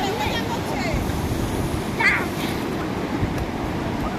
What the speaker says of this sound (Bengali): এইবার কিন্তু বড় ঢেউ আসছে।